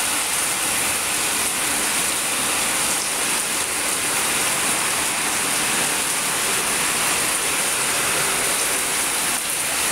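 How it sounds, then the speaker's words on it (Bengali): Evening rain pours onto indoor plants set out on an outdoor balcony, a loud, dense and unbroken hiss of falling water with no voices. "এই যে বৃষ্টির পানিতে একদম ধুয়ে যাচ্ছে।"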